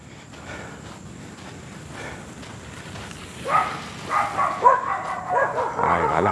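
Several dogs bark and yip in the middle distance, the barking rising into an excited flurry over steady background noise.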